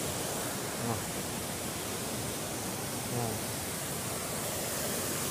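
Lirong Falls waterfall in Catmon, Cebu roars as a constant, dense broadband rush close by, with a voice briefly audible beneath the steady water noise.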